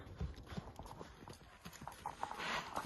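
Hooves of powerful horses bred for the Kyrgyz ulak (kok-boru) game clip-clop at close range, a quick uneven run of beats over a noisy outdoor background with faint voices.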